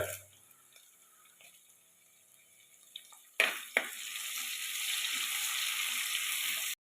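Green chilies and curry leaves hit hot oil while a crab curry is cooked, a sudden loud burst of sizzling after a quiet start, then steady hissing frying that holds to the end.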